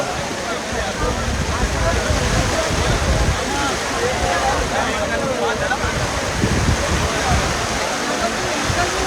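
Heavy rain pours down on a bullock cart race ground at the Karjat Kesari event, a loud, steady, unbroken roar of water filling the whole clip, with voices faintly under it.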